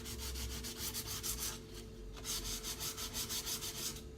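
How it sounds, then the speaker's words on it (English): Grooved wooden furniture legs coated in chalk paint being lightly hand-sanded, a quick rhythmic series of dry rasping strokes close by, pausing briefly midway before resuming at an even pace. "I'm just going to lightly sand those so that we get a little bit of the wood colour coming through"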